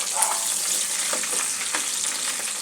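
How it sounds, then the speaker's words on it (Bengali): Hot oil crackles and hisses without pause around pieces of tilapia browning in a frying pan for a fish curry, heard up close as a steady sizzle with faint scattered pops. "মাছটা এপিট ওপিট করে কিছুক্ষণ ভেজে নেব"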